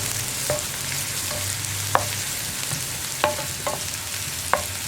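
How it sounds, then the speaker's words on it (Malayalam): Onions stirred in a frying pan while cooking plantain and egg stir-fry, with a few scattered scrapes and knocks of a spoon over a steady soft sizzle, no talking. "ഇനി സവോള ഒന്ന് കുക്കായി വരുന്നത് വരെ ഇളക്കി കൊടുക്കുക."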